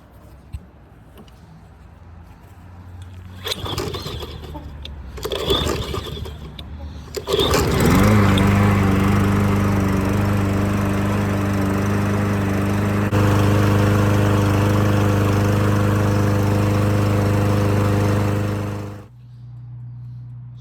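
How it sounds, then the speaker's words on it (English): A Troy-Bilt lawn mower with a newly installed carburetor is cold-started: a few pull-cord tugs and sputters, then the engine catches and runs loud and steady at close range before cutting off abruptly. "This is a cold start right after the new carburetor install."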